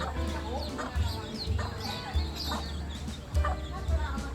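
Chickens cluck repeatedly nearby with higher peeping chicks mixed in, a busy, uneven chatter of farmyard birds at a small zoo.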